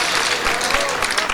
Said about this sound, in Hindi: जन्नत की तालियां थोड़ी और बढ़ाए